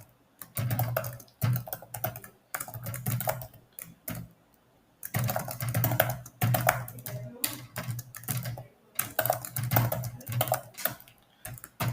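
Fingers type code on a computer keyboard, steady bursts of clicky keystrokes in short runs separated by brief pauses, close and fairly loud with no talking.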